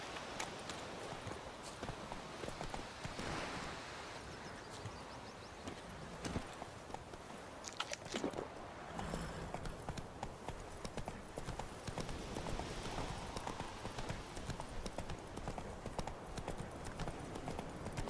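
Horse Roach's hooves clip-clop steadily at a walking pace in The Witcher 3, a continuous rhythmic clatter under ambient game sound.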